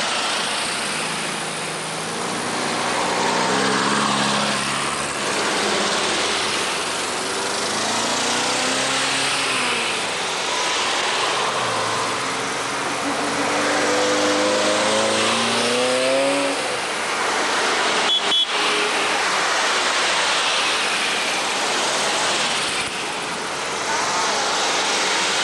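Buses passing by the Arch in 1991, a loud, close engine drone that swells and shifts pitch as a heavy vehicle rolls past.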